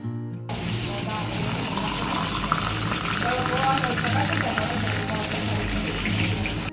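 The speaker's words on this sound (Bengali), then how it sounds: "এখানে 3 চামচ গুঁড়ো দুধের সাথে নিয়ে নিলাম পুরো 1 গ্লাস গরম পানি" Hot water being poured into a glass holding three spoons of milk powder in a home kitchen, heard as a steady liquid pour over a constant background hum and fish frying on the other side, with a voice talking over it.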